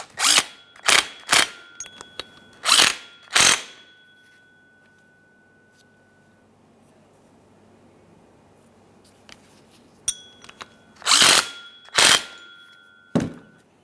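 A power tool bursts in short, sharp runs while snugging three bolts on a power steering pump bracket for a 2009-2014 Nissan Maxima 3.5L V6, several quick pulses, a long quiet pause, then more bursts close up.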